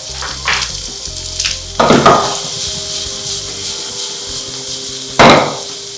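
Sliced onions fry in a pan for a prawn coconut roast, a steady sizzle broken by a few loud scraping stirs of a spatula against the pan, close and without talk.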